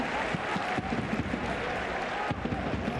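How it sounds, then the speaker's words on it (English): Football fans in the Cartagonova stadium give soft, muted applause during an FC Cartagena versus CF Fuenlabrada match, a steady distant patter of clapping from the crowd. "Muted applause from the fans here at the Cartago Nova."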